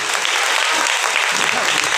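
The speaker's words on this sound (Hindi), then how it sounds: "ताली बजा के प्रभु के नाम को महिमा करेंगे" A church congregation claps in praise, a dense and loud wash of many hands beating continuously from start to end.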